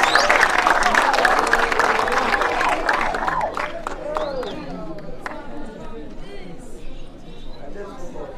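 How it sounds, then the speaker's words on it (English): Scattered clapping from a gathering honouring a scholarship award, loudest at first and thinning out over several seconds, with voices and murmured chatter running under it. "Give him a hand of applause"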